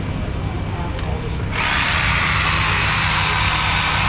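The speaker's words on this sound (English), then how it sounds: "is to see if indeed it is enough to power this Sawzall" A Sawzall reciprocating saw powered from a Ford F-150 Hybrid pickup starts up with a sudden loud buzzing roar, then runs steadily and close over a background engine hum.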